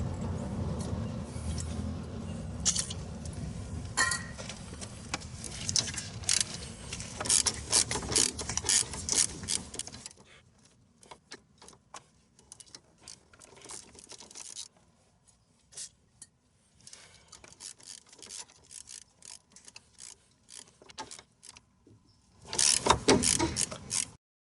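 A ratchet wrench clicks in rapid bursts while cleaning bolt threads during a rear strut change on a Toyota Corolla, loud and close at first, then quieter intermittent ratcheting, ending in another loud flurry.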